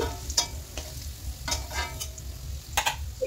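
Fried potatoes lifted out of hot oil in a pan while making a Bengali desi chicken curry, with scattered scraping clinks of a slotted spoon against the pan over a low, steady bubbling sizzle.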